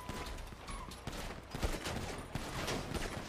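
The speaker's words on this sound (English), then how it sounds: "Oh, they're shooting!" Gunfire in the NoPixel GTA roleplay game: a dense, crackling fusillade of rapid shots in bursts, loud and close, with other game sounds underneath.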